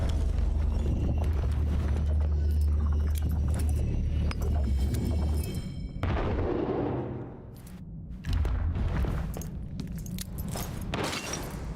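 Sniper fire in the shooter game STALKER 2: sharp cracking shots and impacts cut through dense game ambience and clatter, with a brief lull in the middle before busy noise returns.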